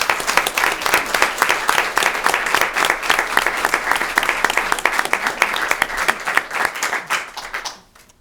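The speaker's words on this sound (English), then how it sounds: "So let's have a round of applause for Nicole" A school committee meeting audience claps for a student in a sustained round of applause that holds steady and then fades out at the end.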